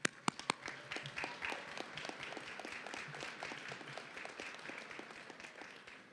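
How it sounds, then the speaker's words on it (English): Graduation audience applauding family and friends, a few sharp early claps swelling into sustained, dense clapping from a large crowd in a hall that continues throughout. "Graduates, please take a turn and give your family and friends a round of applause."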